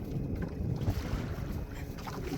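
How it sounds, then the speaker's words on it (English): Small waves on New Melones lake lapping against a fishing boat running on a 24-volt Terrova trolling motor, a steady low wash of water mixed with wind buffeting the microphone, with no talking. "Well, there's some waves right now."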